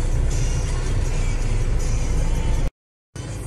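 Heavy road traffic beside a large public market in the early evening: a steady, loud, close roar of engines and tyres that cuts out briefly, then resumes.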